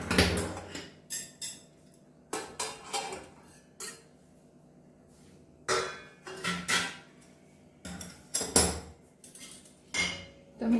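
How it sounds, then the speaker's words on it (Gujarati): Metal plate lid lifted and set down on a pan of Kathiyawadi-style stuffed okra with peanuts, giving several sharp clattering clinks in separate bursts with quiet pauses between, close and fairly loud, no talking. "હવે આપણે ડીશ ખોલીને ચેક કરી લઈશું।"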